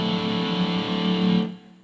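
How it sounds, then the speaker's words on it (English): A D second suspended chord on a distorted electric guitar rings out as one sustained, full chord close to the listener, then is choked off short after about a second and a half. "which gives us a D second suspended chord"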